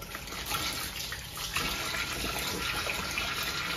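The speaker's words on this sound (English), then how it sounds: "as you can see, the water's running clear" Tap water streams steadily over a Shark Lift-Away vacuum filter being rinsed under a faucet, a close, continuous hiss and splash with no pauses.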